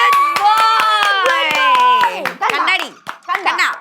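Sharp, evenly spaced hand claps ring out close by, about a dozen in a quick rhythm, while a voice sings or talks in a drawn-out melodic way over them before the claps become more scattered.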